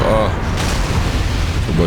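A loud, rumbling explosion in the video game Wild Hearts keeps booming and roaring for about two seconds, filling the mix with heavy low-end noise.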